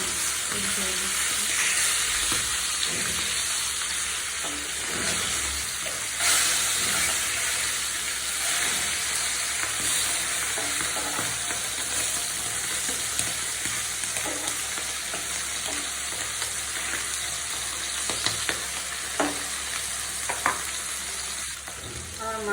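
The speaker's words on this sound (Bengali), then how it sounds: "মাছগুলো ভাজা" Hilsa fish fry in hot oil in a pan, a loud, steady sizzle with crackling spits that runs without a break for over twenty seconds, close by, with no talk over it.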